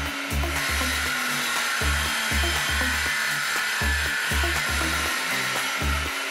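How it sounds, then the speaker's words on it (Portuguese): A wooden table saw fence is hand-sanded along its edges with 180-grit sandpaper, producing loud, close, rhythmic rasping back-and-forth strokes in a steady repeating cadence with no talk. "Passei uma lixa 180 a arredondar as arestas."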